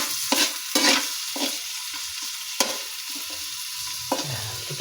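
Chopped garlic going into a pan and frying, with a few sharp clattering stirs over a steady soft sizzle that carries on alone and close by.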